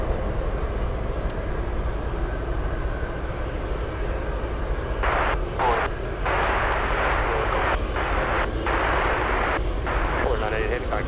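An MD-11 jet airliner at Anchorage airport roars on takeoff as a loud, broad engine rumble, with crackling radio voices cutting in over it.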